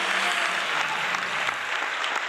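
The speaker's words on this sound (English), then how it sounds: "And the crowd goes wild" An audience applauds a guest's introduction at a live talk event, dense steady clapping filling the room for the whole stretch without voices.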